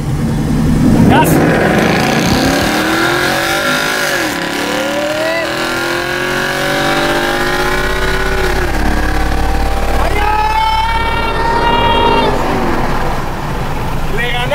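A Cupra car accelerates hard from a rolling start at about 20 in a drag race against another car, its engine rising in pitch through gear changes, loud and close, with a second engine also heard.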